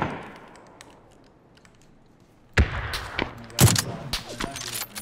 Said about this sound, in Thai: ตามเสียงปืนนะปืนบ้านซ้ายสุด